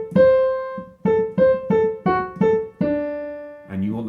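Solo piano plays bars 3 and 4 of Mozart's Eine Kleine Nachtmusik at a beginner level, a close, clear phrase of six or seven detached notes ending on a held tone, with a brief low chord at the close.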